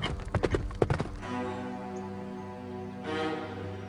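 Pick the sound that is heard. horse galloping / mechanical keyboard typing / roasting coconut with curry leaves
horse galloping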